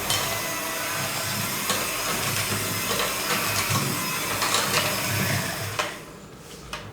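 An electric mixer beats butter batter for a plum cake, a steady loud whirring hiss that runs continuously before cutting off near the end.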